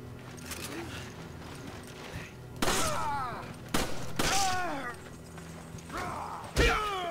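Metallic clicks and clacks of weapon reloading in Resident Evil 5, with several sharp bursts of gunfire and creature noises breaking in over steady game background sound.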